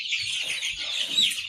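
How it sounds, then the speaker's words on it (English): Black Australorp chicken clucking steadily at close range, with soft repeated calls over a busy flock of chickens in a farm coop. "This is a black Australorp."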